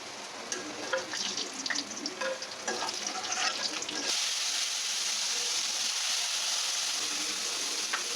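Bitter gourd is frying in a pan of oil alongside potatoes for a mixed-vegetable dish, giving a crackly sizzle with stirring scrapes at first that settles into a steady, even hiss of frying.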